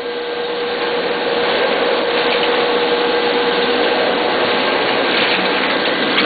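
A Duplo DC10000s twin tower collator feeds sets into a booklet maker, making a steady, loud mechanical whir with a constant hum that carries through the whole stretch without any speech.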